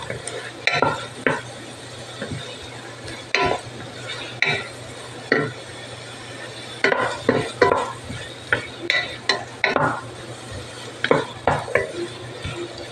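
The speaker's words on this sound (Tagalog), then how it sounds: "Igisa muna natin mabuti itong kamatis." Tomatoes sautéed for pork sinigang, with a spoon scraping and clinking against the pan in repeated bursts over a steady low sizzle, close and clear with no talk.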